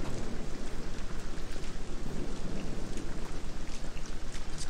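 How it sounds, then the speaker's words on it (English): Steady rain falling in a video game, a dense even hiss of drops with a faint rhythmic pulse, moderately loud and with no voices. "It's raining."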